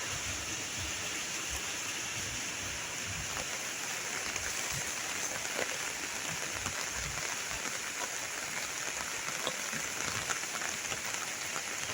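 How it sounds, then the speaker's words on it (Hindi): Heavy rain pours steadily onto surfaces, a dense, continuous hiss of close drops with scattered louder patters throughout and no break. "बारिश बारिश बारिश बारिश बारिश।"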